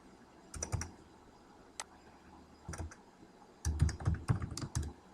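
Keys tapped on a computer keyboard while filling in a worksheet, quiet close clicks arriving in short clustered bursts separated by pauses, with a faster run of keystrokes near the end and no talking.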